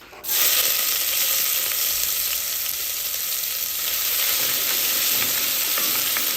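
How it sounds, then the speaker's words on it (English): Chopped onion sautéing in about two tablespoons of oil in a pan, a steady, close sizzle that holds loud and even with faint scraping from stirring. "I'm going to start with a bit of oil, like 2 tablespoons of oil, just so I can saute my onion."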